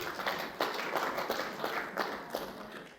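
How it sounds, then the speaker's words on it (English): Scattered applause from a small audience at a roundtable discussion, with a few uneven claps rising and falling over a soft room background. "Give them a round of applause."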